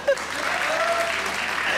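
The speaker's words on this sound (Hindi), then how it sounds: "वो तालियां हो जाए।" Studio audience applause on a comedy talk show, a dense steady wash of clapping filling the short stretch, with a faint voice tone running underneath.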